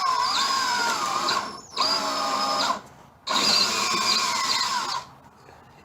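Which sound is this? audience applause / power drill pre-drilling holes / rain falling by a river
power drill pre-drilling holes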